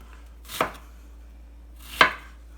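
Two sharp, isolated knife chops through onion on a cutting board, about a second and a half apart, close and clear with no talk.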